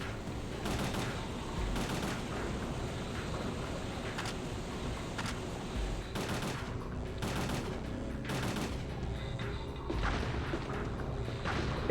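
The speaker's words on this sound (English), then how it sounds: "Just keep shooting the thing." Sustained gunfire from the survival horror game Parasite Eve II, dense overlapping shots and bursts running throughout at a steady loud level with game music and effects underneath, no talk.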